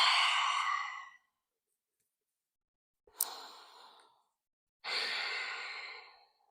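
Three slow, deep breaths taken during a gentle yoga hamstring stretch: a long exhale, a pause, then a shorter breath and another long, airy exhale, close and soft with no talking.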